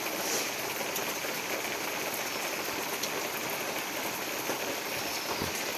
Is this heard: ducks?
no